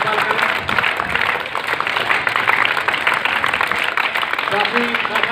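Audience applause welcoming guests at a gathering, sustained dense clapping throughout with crowd noise and voices mixed in, steady and loud from start to finish.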